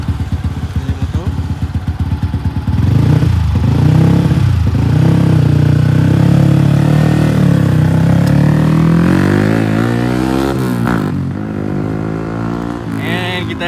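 Yamaha R25 motorcycle fitted with a larger radiator, its engine idling with a rapid pulsing beat before revving up into a loud sustained drone, then easing back down to idle.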